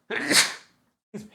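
A single sharp, breathy sneeze bursts out close by, followed a moment later by a short, softer exhale or sniff.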